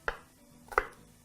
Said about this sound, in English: begin by chopping up your onion.